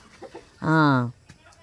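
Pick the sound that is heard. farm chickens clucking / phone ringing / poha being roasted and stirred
farm chickens clucking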